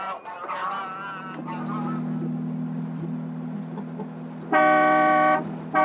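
A car horn honks in a short sustained blast after a stretch of low engine rumble and scattered honking, loud and close.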